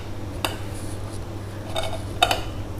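A few sharp metallic clinks ring out as a plate is set onto a pot, two or three close knocks against a quiet background.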